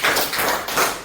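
Group hand claps in a classroom, a few loud, close, evenly spaced claps in unison, with no speech over them.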